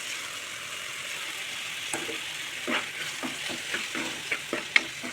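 Ground peanut paste is stirred into sautéed tomato and onion for a peanut kurma, with a steady, moderate frying sizzle and a run of wet spoon strokes scraping the pan close by.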